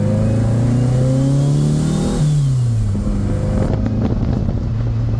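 A turbocharged VW Beetle engine on a low-budget setup revs hard, its pitch climbing steadily, dropping briefly at a gear change, then pulling again. The roar is loud and close, with no talk over it.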